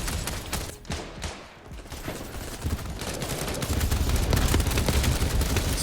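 P90 submachine gun fire in the shooter game BattleBit Remastered, rapid sustained bursts of automatic shots with a brief pause before a longer, denser stream of fire.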